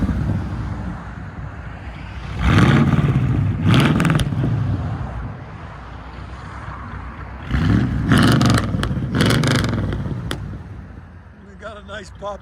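A 1978 Chevy Camaro's 5.7L V8 with long-tube headers and straight pipes revs up twice in strong surges over a steady idle, loud and close, with a voice speaking near the end.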